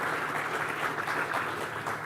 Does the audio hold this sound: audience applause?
yes